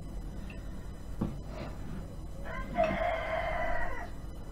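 A rooster crows once in the distance against a quiet outdoor background, preceded by faint clucks.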